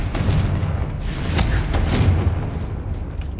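A Confringo fire spell explodes in the Hogwarts Legacy video game, giving a loud rumbling boom with layered crackling bursts that swell and fade over a few seconds.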